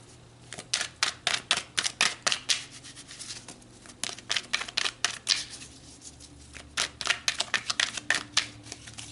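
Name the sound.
tarot cards being shuffled and pulled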